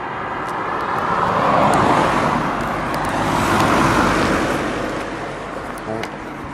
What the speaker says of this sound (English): let me just wait for the traffic to go by